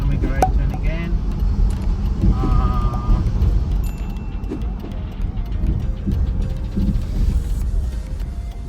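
A car on a New York State road test in the Capital Region hums steadily from inside the cabin, a low continuous engine and road drone with faint clicks, under a voice talking.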